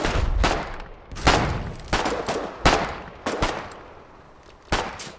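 Video game gunfire in the multiplayer war game Foxhole, with loud, close bursts of rifle and machine-gun shots cracking at irregular intervals, each followed by a short echoing tail.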